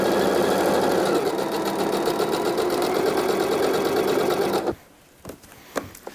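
Domestic sewing machine stitching a coat lining, a loud, close, steady rapid mechanical whir and clatter that runs continuously and then stops abruptly, leaving near silence with a few light handling taps.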